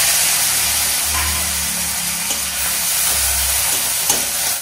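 Tomatoes going into hot oil with black cumin seeds for a Bengali fish dish give a steady, loud sizzle and hiss that holds for the whole stretch, with a low rumble underneath and a couple of faint clinks.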